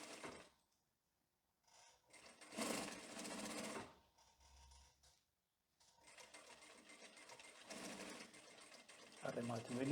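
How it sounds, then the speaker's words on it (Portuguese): A sewing machine topstitching the pocket lapels on modern tailored women's trousers, running in several bursts of rapid stitching separated by short pauses, with a voice talking at times. "vamos passar um pesponto de um pé de máquina, igualando as lapelas no bolso"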